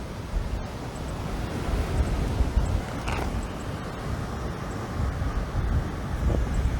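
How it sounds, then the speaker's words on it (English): Steady, strong wind roars and buffets a microphone outdoors, a continuous low rumble with no voices. "Lots of wind this morning."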